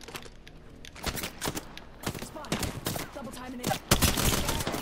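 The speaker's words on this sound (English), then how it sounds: "You're getting shot at?" Rapid bursts of gunfire in a video game, with dense automatic volleys and scattered single shots, moderately distant and layered over faint keyboard-like clicking and a little game noise.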